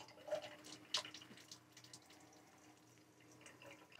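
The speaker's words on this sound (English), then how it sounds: "leave it on until it runs antifreeze through the faucet" RV faucet in a 2024 Legacy Elite II trailer running antifreeze during winterization, a faint, quiet trickle of liquid with a couple of small clinks and no talk.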